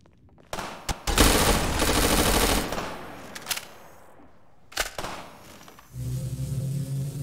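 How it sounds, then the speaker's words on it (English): Sniper gunfire in Garry's Mod: a few sharp, loud cracks ring out separately, some with a longer rolling burst of noise, against near-silent gaps and a low engine-like hum at the end. "now the sniper's gonna start shooting"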